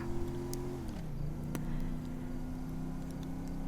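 A steady, droning car engine in the video game GTA 5 hums at a constant pitch, dipping briefly and then holding, with a few faint clicks on top.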